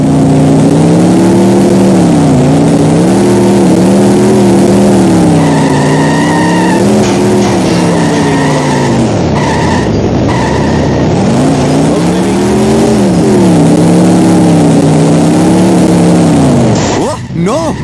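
Engine of a car driven in The Simpsons Hit and Run video game drones loudly and continuously, its pitch rising and falling with acceleration, with character voice lines heard over it and a brief skid near the end.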